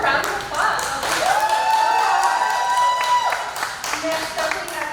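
An audience at an outdoor pinup contest claps for a contestant in a sustained burst of applause, with a voice and some tonal sound carrying over the clapping.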